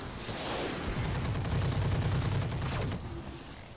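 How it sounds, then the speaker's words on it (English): Mech weapons in the video game Roguetech fire all at once in a dense, continuous barrage of blasts and rumbling booms that fades out at the end. "Let's fire from a distance on this guy. And we're going to fire everything."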